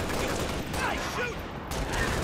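Gunfire in the video game Halo Reach crackles as a continuous burst of rapid shots, fairly loud and dense across the whole stretch, with a brief dip near the end.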